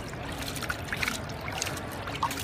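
Water rushes steadily through the neck of a sluice box while panning for gold, a continuous close trickling and splashing wash with small gurgles and drips, no voices.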